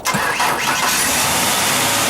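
A Ford 4.0-litre six-cylinder engine cranks and catches on a small graphene battery module, then settles into a loud, steady idle that runs continuously up close.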